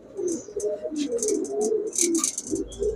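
A Giribaz pigeon giving soft, rolling coos in a short run of repeated low calls, close by, with brief faint chirps and background rustle, no voices.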